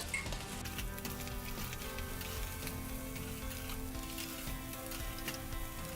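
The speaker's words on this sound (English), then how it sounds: "Turn the rice over a couple of times and then you're going to mix it in with everything." Rice being turned and stir-fried in a pan for chicken fried rice, a constant soft sizzle and crackle with faint scraping, steady and close throughout.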